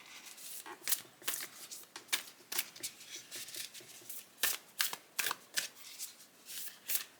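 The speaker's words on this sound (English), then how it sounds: "overhand shuffling, which is fine." Kuan Yin oracle cards being overhand shuffled by hand, a series of quick, crisp papery slaps and riffles in uneven bursts, close and clear with no talking.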